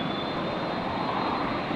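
An airplane landing at Brisbane airport gives a steady, loud broadband roar that holds evenly throughout, with no voices over it.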